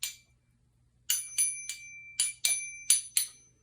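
A small metal thimble is struck like a chime, ringing out in about eight bright, high, bell-like pings, some in quick pairs, each with a short shimmering decay over a quiet background.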